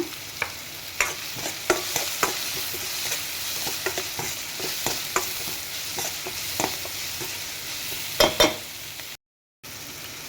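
Ingredients for thili saaru, a thin South Indian rasam-style soup, fry in a pan with salt added, giving a steady sizzle broken by frequent scraping stirs and clatters of a spoon, close by and with no talking.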